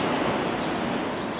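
Stormy Black Sea surf at Lazarevskoye in March roars in a steady, dense wash of noise, with no talking and no break across the brief moment.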